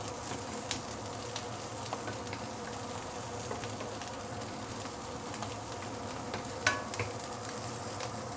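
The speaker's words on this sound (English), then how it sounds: "So you want to make sure it is nicely and proper charred." Prawn shells charring in a hot pan, a steady low sizzle and hiss with faint occasional crackles and one brief clink, moderately quiet and even throughout.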